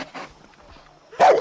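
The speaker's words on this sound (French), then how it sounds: "Qu'est-ce qu'il a à gueuler, ce clébard?" A dog barks in the video game Far Cry 3, a couple of faint yips early followed by one louder, sharper bark at the end over quiet background.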